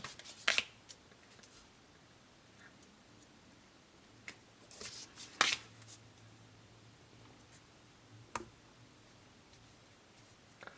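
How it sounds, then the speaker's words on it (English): Tarot cards being laid out on a table, a handful of sharp, brief slaps and taps spread out over quiet moments, close and fairly faint. "So let me just put the cards right here."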